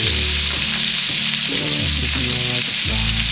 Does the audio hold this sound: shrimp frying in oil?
yes